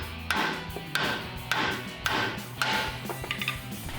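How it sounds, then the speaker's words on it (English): A weighted hammer or mallet strikes a ball joint on a 2005-2015 Toyota Tacoma front lower control arm, five loud, sharp metallic knocks with ringing tails, evenly spaced about half a second apart. "So now we're gonna take our weighted hammer / mallet and go ahead and knock it out."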